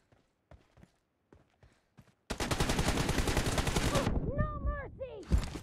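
Rapid automatic gunfire rips through a video game match in one dense sustained burst, loud and close, after a few scattered clicks and footsteps, with whistling ricochet-like sounds trailing at the end.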